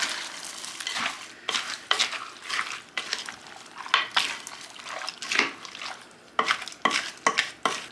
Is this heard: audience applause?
no